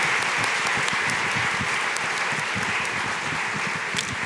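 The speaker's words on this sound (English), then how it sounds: "Can we give another round of applause to Jim and Evelyn and Piazza and Gruver?" Audience giving another round of applause at an evening community gathering, a steady full wash of clapping from many hands, even and continuous throughout.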